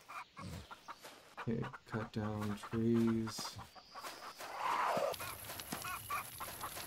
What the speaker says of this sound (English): they threw in, like, a shitload of random chickens, it's like, yeah, do I really want to hear that all day and night?